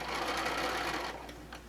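A sewing machine runs steadily as it stitches fabric around a curve for a machine cover, a close, continuous buzzing whir that eases off slightly near the end.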